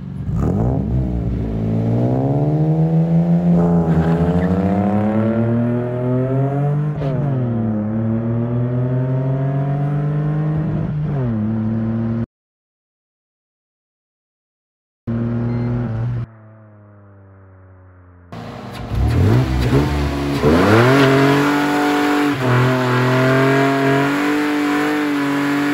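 A Mercedes C32 engine on a standalone ECU revs hard through rising and falling sweeps during a first-gear burnout, roaring loudly up close, cuts out briefly, then screams back to high revs.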